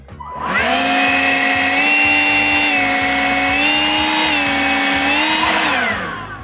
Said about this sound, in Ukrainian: такий турборежим це моментне підвищення потужності цієї повітродувочки